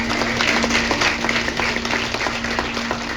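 A church congregation applauds during a celebration service, a steady wash of clapping hands over a constant low hum, moderately loud and sustained throughout.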